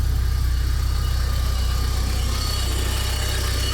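A Porsche 944 engine idles close by with a bad alternator, a steady droning rumble with a faint whine over it, running evenly without a break.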